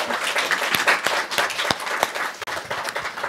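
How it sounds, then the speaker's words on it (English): Audience applause for a panel at a careers in management event, steady dense clapping from many hands throughout, fairly loud and close, with no talking over it. "let's give our panelists a big round of applause"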